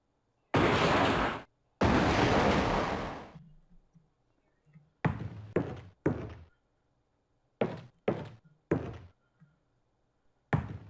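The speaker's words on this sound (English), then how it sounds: "And now, just like Danny Boy, we use a bit of incandescent metal to light the cannon." A cannon fires in Alone in the Dark 2, lit with incandescent metal against sleeping pirates: two loud, roaring blasts with a decaying rumble, then a scattered series of sharp, heavy thuds.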